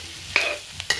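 Onions frying in a pan for a soybean roast get stirred, with a soft sizzle under two or three quick, close scraping strokes.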